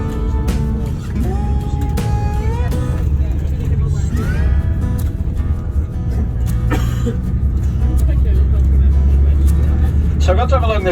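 A tour bus drives along the Antrim coast, its engine a low, steady rumble running underneath continuous close-up talking from a guide.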